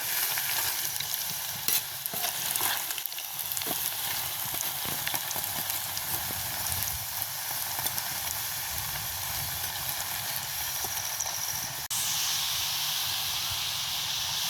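Cassava (tapioca) pieces stir-fried in a pan, with a continuous loud sizzle and hiss and occasional scraping as the pieces are turned.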